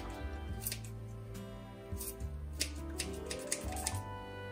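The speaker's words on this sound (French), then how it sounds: "je prends mes ciseaux" Quick metallic snips of scissors cutting parsley in short bursts, faint and close, over a steady background hum with tonal music-like layers.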